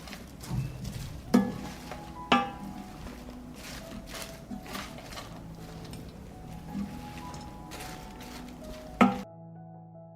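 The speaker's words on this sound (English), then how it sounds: "just combine potatoes, meat, and mix." Potatoes and meat being stirred together in a frying pan: a quiet, soft scraping with a few sharp utensil clinks against the pan, heard alone.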